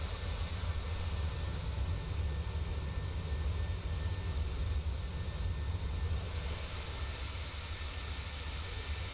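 A PMDG 737-800 airliner's engines in Microsoft Flight Simulator 2020 give a steady, loud, continuous drone and low rumble that holds unchanged for the whole stretch, with no voices.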